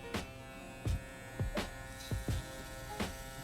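Powerful electric hair clippers buzz through hair in slow passes near the front of the ear, a low motor hum punctuated by several short, rougher cutting bursts, close and without speech.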